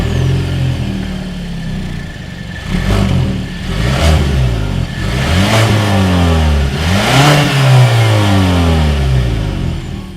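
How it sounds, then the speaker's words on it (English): Exhaust of a 2020 Kia Sportage, SX Turbo trim, revved several times from idle, each rev rising and falling in pitch, heard close and steady with no talking. "As always, here is that exhaust clip."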